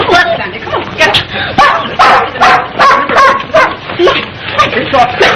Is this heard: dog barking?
yes